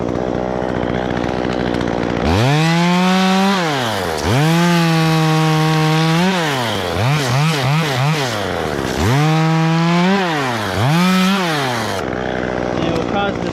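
A chainsaw cuts a skinny pine, revving loudly in long rising and falling bursts with brief stuttering throttle blips, up close and dominating, then dropping back to a rough idle.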